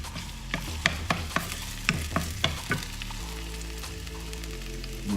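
Minced garlic and ginger paste sizzle in oil in a pan for shrimp fried quinoa, with a quiet bed of frying and a run of sharp crackles and spatula clicks early on. The sizzle then settles into a softer, even hiss with no talking.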